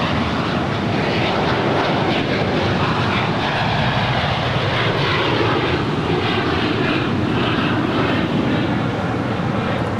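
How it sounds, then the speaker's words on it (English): A VistaJet Malta Bombardier Global 7500 business jet takes off at LAX, bound for Teterboro, its engines a loud, steady roar that fills the whole stretch without a break. "This is VistaJet Malta, 785 off to Teterboro. It's a Bombardier Global 7500."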